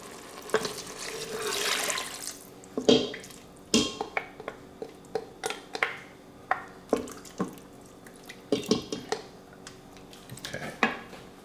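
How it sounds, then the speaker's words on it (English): Beef broth is poured into an Instant Pot while making beef stroganoff, with liquid splashing and dripping among repeated clinks of utensils and pot, close by and without speech. "I'm going to add in the beef broth."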